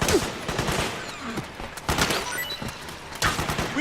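Machine guns pour out suppressing fire in a Metal Gear Solid 4 firefight, loud close bursts of rapid shots in uneven clusters with short gaps between volleys.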